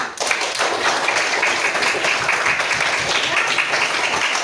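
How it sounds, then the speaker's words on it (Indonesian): Classroom applause from a group of children, a steady dense patter of clapping that fills the whole stretch at close range, with no voices standing out above it. "berikan tepuk tangan buat kita pada pagi hari ini"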